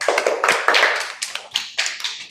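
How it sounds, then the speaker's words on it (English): Classroom applause for a girl who answered correctly at a girls' English-medium school, a burst of several hands clapping together in uneven rhythm, loud and close, fading in short bursts. "Claps for her."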